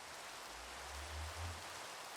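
Steady rain falls in a modded Minecraft world, a dense even hiss of drops that stays constant and moderately loud, with a low rumble underneath and no voices.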